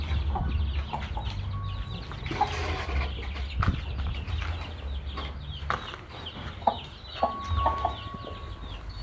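A young rooster clucks in a coop with short, scattered calls over a low rumble of background noise, joined by other fowl sounds nearby.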